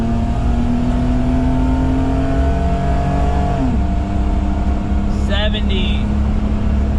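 A Daihatsu Midget 2 engine revs up under acceleration, its droning harmonics climbing steadily before a gear change drops the pitch midway and the pull resumes. Loud and close, with a voice present over it.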